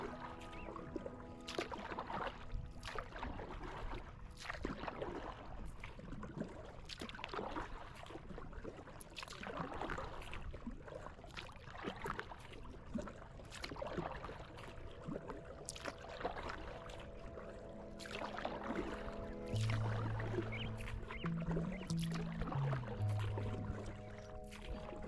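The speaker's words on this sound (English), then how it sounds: "Probably tell my paddling's much slower now." A kayak paddles on the Coorong lagoon, its soft rhythmic dips and trickling water strokes repeating at close range against a quiet outdoor backdrop.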